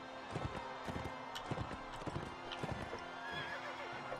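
Horses in Mount & Blade: Warband gallop with rhythmic clip-clopping hooves and a clear whinny, set against a distant battle din of clashing and shouting.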